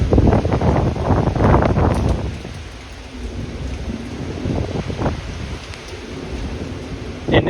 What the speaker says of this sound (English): And with that heavier rain, it just comes down, mixes down easier.